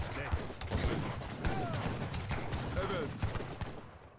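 Great bombard cannons firing in an Age of Empires III India treaty battle, a dense stream of booming shots and clatter mixed with other battle noise throughout, with a voice talking over it.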